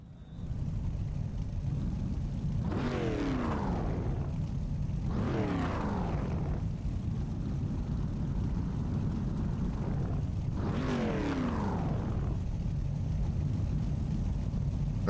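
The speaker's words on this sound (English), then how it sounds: "Here we go, cars on grid, ready to go." Dirt street stock race cars idle and rumble on the grid before a race, a loud continuous engine drone with several rising revs sweeping up as drivers blip throttles, no talk.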